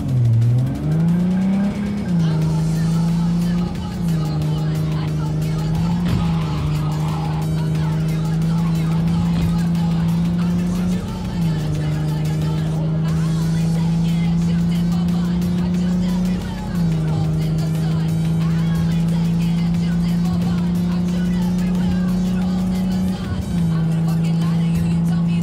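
A car engine in the video game Cyberpunk 2077 drones steadily and loudly for the whole stretch, its pitch dipping and rising slightly at several points, with game music playing underneath.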